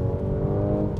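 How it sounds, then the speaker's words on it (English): A 2016 Mercedes-AMG C43 (C450 AMG Sport) drones loudly and steadily during a downshift, its exhaust giving a low burbling rumble from a controlled misfire. "So Mercedes calls that a controlled misfire"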